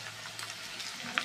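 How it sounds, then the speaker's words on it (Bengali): Ginger-garlic paste dropped into a pan of lightly fried potatoes for a snail curry, giving a soft, continuous sizzle with faint ticks and one brief sharp clink near the end. "এবার আদা রসুন বাটাটা দিয়ে নেব।"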